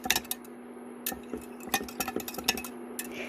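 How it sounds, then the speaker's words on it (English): A knife stirring menthol flakes in a container, making a quick irregular series of metallic clinks and scrapes, fairly close and fairly quiet, under a steady faint hum. "And stir it up. I'm going to use a knife."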